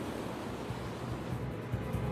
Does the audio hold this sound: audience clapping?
no